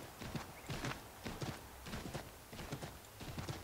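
A horse trots along a road in Assassin's Creed III, its hooves clip-clopping in a clear, steady repeating rhythm, fairly close and distinct over low background ambience.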